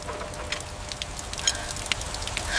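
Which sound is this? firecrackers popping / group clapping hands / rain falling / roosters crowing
rain falling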